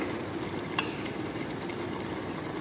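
White pardesi chana simmers and bubbles in a pot, a soft steady low sizzle with an occasional faint scrape or clink of a stirring spoon, close and quiet.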